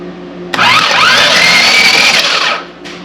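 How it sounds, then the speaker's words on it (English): Starter cranking the seized engine of a Honda TRX 200x ATV, a single continuous whirring spin lasting about two seconds, loud and close, with a rising then steady pitch before cutting off. "And let's see if a motor will spin now."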